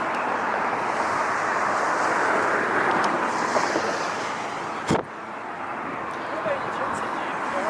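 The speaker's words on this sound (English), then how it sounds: "A little bit windy here, so bear with me" Steady wind buffets the microphone at an outdoor plane spotting spot at LAX, a broad continuous roar with one sharp thump partway through, while a person talks over it.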